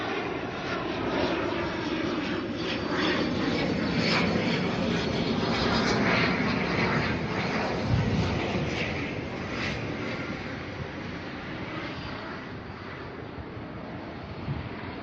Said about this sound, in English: it's the ATR hour at the moment, NZ5052 here coming in from New Plymouth